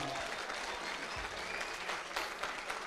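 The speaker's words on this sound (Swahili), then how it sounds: "Halafu upigie Yesu makofi mazuri" A church congregation claps for Jesus in a steady wash of applause, moderately distant and fairly quiet, with a few sharper claps standing out over the crowd.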